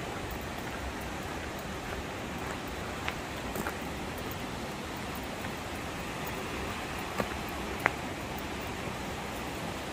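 Rushing river water tumbling over small rapids and cascades beside the Appalachian Trail, a steady broadband roar that stays constant and fairly close throughout, with a few faint clicks and no voices.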